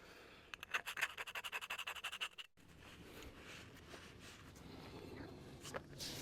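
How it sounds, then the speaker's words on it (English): Pick scraping old silicone from a Suzuki GS 500 motorbike engine: close, rapid rhythmic scratching strokes for about two seconds, then a steadier, softer rubbing scrape. "We'll get all that silicone out of there with the pick"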